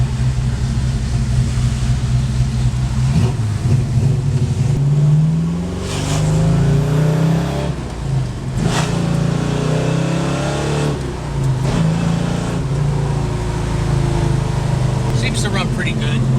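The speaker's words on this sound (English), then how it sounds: "But now, of course, we get to take this little test drive and make sure everything runs good" A big block Mopar muscle car with a 4-speed gearbox runs on a test drive, its deep engine drone loud and close throughout, the pitch rising and settling with each gear change.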